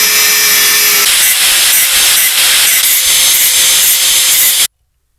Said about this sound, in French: il va falloir raccourcir tous les goujons que j'ai